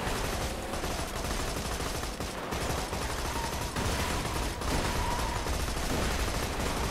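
Dense, continuous gunfire and explosions fill a chaotic firefight in the shooter game Borderlands 2, loud and sustained with no clear pauses between shots.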